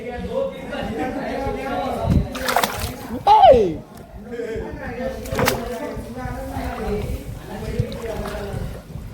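A man wades into water, with splashing and sloshing around him close by while he talks over it and the water is disturbed.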